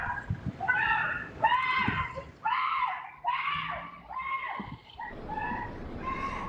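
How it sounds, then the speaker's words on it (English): A San Francisco mail carrier screams repeatedly after an assault and robbery, long, high-pitched, strained wails, each cry breaking off before the next, with street noise underneath. "that is the scream of a mail carrier after an assault and a robbery"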